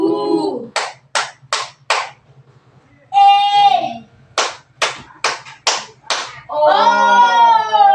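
Classroom group clapping hands together in rhythm, several sharp claps in quick even sequences between vowel sounds chanted by a teacher and children.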